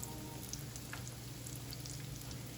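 Steady hiss of doughnuts frying in hot oil, with faint crackles and pops scattered across a constant sizzle.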